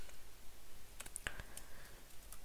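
A handful of sparse keyboard keystrokes typed into a computer terminal, quiet isolated clicks clustered in the middle of an otherwise hushed stretch.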